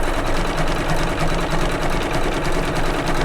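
An embroidery machine runs a double tack-down stitch to secure leather on a Kimberbell quilted pillow block, a steady, close, continuous mechanical whir with fast rhythmic needle clatter and no talking.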